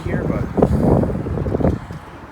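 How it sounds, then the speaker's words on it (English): Gusty wind buffets the microphone with a steady rumble at an outdoor railway museum while a person talks over it. "It's a bit windy here"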